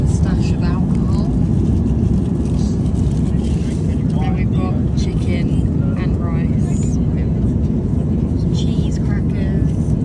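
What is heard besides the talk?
airplane cabin engine noise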